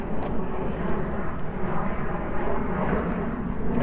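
A commercial jet airliner passes overhead at a city park, its engine roar a steady, broad rumble that holds loud throughout without a break.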